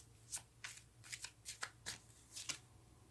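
Tarot cards shuffled by hand in a quiet room, a run of soft, close riffling flicks coming in short rhythmic bursts with no talking.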